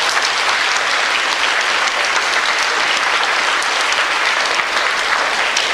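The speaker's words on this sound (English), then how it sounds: "So let's give her a round of applause." Dense, steady applause from a school reunion audience fills the room at full volume, unbroken and even from start to finish, with no voices rising above the clapping.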